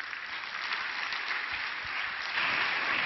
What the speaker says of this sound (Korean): 이 시대의 불의 사자 엘리야 김승수 목사님 큰 박수로 환영해 주십시오